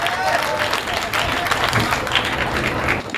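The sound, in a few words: audience applause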